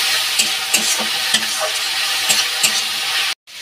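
Loud, continuous sizzle of spices frying in a pan with intermittent scraping stirs, ending in an abrupt cut.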